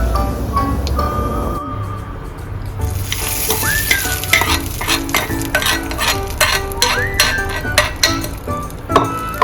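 A hot tempering of curry leaves in oil sizzles loudly as it is poured into peanut chutney, with crackling spits, clinks of a metal pan and spoon, and brisk stirring close by.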